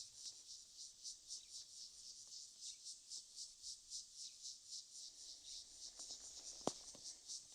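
A cicada chorus on a live African wildlife safari, a steady high pulsing buzz swelling and fading in regular rhythm throughout, with a brief sharp click near the end.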